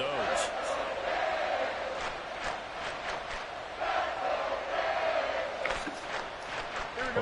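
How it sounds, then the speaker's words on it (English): A loud stadium crowd at a football game roars steadily, a dense swelling wall of voices with rising cheers, while a commentator's voice talks over it. "this crowd making it hard to hear"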